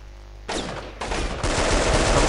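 Gunfire in the video game Delta Force Black Hawk Down, with loud bursts of shots that start suddenly, pause briefly, then keep going in a dense, steady volley.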